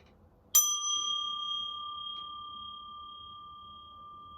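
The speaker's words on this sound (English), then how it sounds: "Let's ring a bell." A single bell is struck once and leaves a clear, pure ringing tone that sustains and slowly fades for several seconds in a quiet room.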